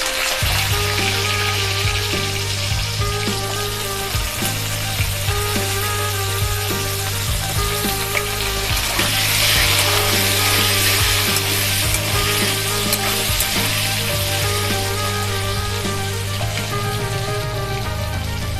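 Potatoes fry with cumin seeds in a pan for a vegetarian cabbage and soybean dish, giving a steady, crackling sizzle with occasional stirring scrapes under background music and no talking.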